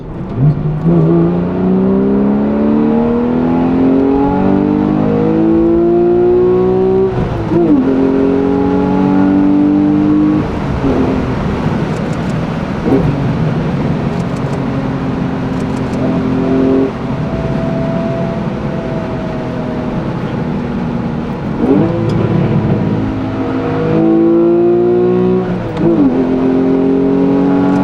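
Porsche 991.1 Carrera 4 engine heard from inside while chasing a Cayman GT4 RS, loud revs climbing through repeated gear changes, with brief drops between upshifts and a sustained drone on steadier stretches.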